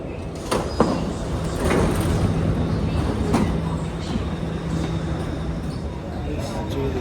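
Singapore train noise: a steady rumble and hiss of carriages under way, with a sustained hum, brief door or track clunks and faint scattered talk in the background throughout.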